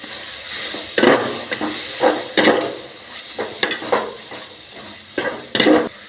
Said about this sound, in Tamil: 4 மிளகாய், புதினா, கொத்தமல்லி ரெண்டையும் நல்லா போட்டு ஒரு கிண்டி விட்டுருவோம்.